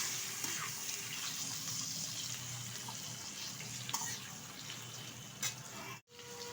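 Catla fish roe and oil sizzle in a pan, a steady close hiss that keeps going throughout with small crackles and pops and a brief sharp break near the end, with no talking.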